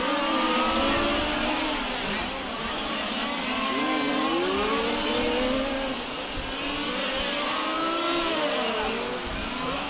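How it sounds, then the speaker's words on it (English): Large-scale RC race cars at the 2015 IFMAR Large Scale Worlds finals make a continuous dense whine of small engines revving and accelerating on track, several cars overlapping and sweeping past near and far. "Russell Greninger down into the keyhole as we pick up"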